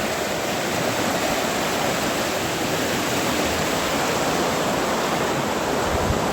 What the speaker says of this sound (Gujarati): કેટલું પાણીનો વેગ છે